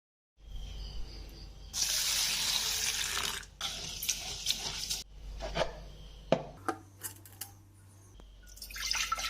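Running water splashing and swishing as half a cup of raw rice is washed in a vessel, then several short sloshes and drips as it is swirled and poured off, close by, no speech.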